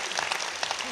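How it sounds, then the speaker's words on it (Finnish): A brief burst of crowd clapping from the audience at a comedy roast, dense and steady, cut short after under a second. "annetaanpas Jetrolle kunnon aplodit"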